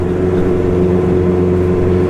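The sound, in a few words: Honda CB 650 R motorcycle engine accelerating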